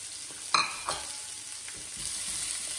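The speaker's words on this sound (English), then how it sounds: "The idea is to just saute these onions till they become really soften them." Onions and chili sauté in a pan with a steady sizzle, broken by a couple of sharp scraping stirs early on, with no voices.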